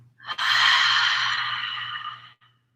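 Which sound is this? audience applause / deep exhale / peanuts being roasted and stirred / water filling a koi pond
deep exhale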